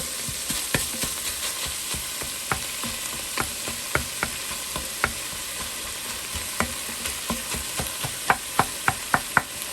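Meat for Zuppa Toscana sizzles steadily in a pot, a constant frying hiss punctuated by regular sharp clacks of a spoon stirring and scraping, growing louder toward the end.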